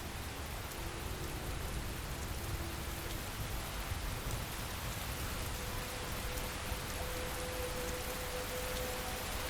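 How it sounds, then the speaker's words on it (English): Steady heavy rain in the video game Skyrim hisses evenly throughout, a dense continuous downpour with a faint low rumble underneath and no voices. "Oh, nice and rainy."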